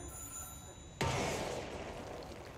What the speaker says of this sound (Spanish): ¿Está sonando un teléfono?